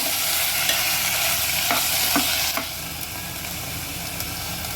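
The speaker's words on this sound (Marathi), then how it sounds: "तुपाबरोबर आपण ही मसूर छान एकजीव करून घेऊया" Whole masoor lentils stirred with ghee in a pan make a continuous close sizzle with scraping stirs and a few spoon knocks, growing quieter partway through.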